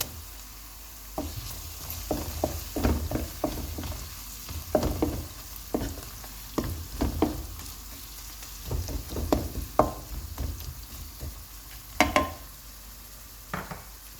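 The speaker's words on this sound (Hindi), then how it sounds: "और प्याज को हमने लाइट सा गोल्डन करना है।" Ginger garlic paste sizzles with onions in a hot pan for mutton shorba, with frequent scraping and clinking of a spoon stirring through the crackling oil.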